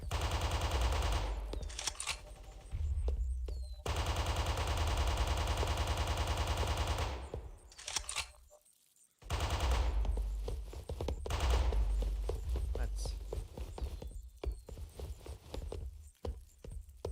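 Rapid bursts of gunfire from bots in the blocky shooter game Guncraft fill the clip. The shots are loud and dense, with sustained automatic runs broken by brief gaps, a sharp dropout near the middle, and no talking.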